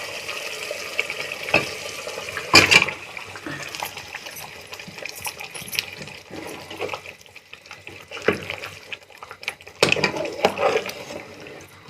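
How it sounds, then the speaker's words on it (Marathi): Pieces of fish being stirred into boiling masala in a pot give a steady simmering bubble, with scraping spoon strokes and occasional sharper clinks against the pot. "आता मिक्स करून घेते मम्मी."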